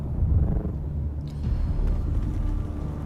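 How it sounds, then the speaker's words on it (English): A sandstorm rolls in across open desert in Dune: Awakening, a deep, steady low rumble that swells slightly and holds on, with no voices over it. "That would be a storm coming."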